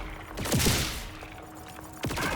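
Sniper rifle gunfire in the Borderlands 4 video game: a burst of loud shots near the start, a quieter stretch with a steady tone, then another sharp shot near the end, with game effects layered throughout.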